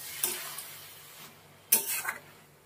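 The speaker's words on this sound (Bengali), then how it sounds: "এবার একটু ভালো করে নাড়িয়ে" A utensil stirs bottle gourd and shrimp curry in a pan, giving a couple of brief scraping strokes over a faint background, the second one louder and longer.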